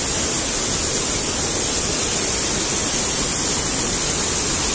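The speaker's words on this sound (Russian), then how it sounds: "Ух ты, какой тут поток!" A rushing mountain stream near Shipit waterfall in the Carpathians roars loud and continuous, a dense, close wash of churning water with no break and no voices over it.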